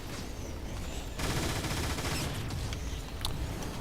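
Sustained gunfire from a Transformers: War for Cybertron video game battle, a dense, loud burst of rapid shots that erupts after a quieter opening and rattles on for several seconds.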